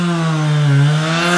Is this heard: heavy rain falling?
no